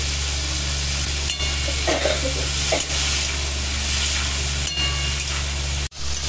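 Soaked chickpeas with salt being stirred in hot oil in a pan, a continuous close sizzle and hiss with a few soft scraping strokes and a brief pause near the end, no voices.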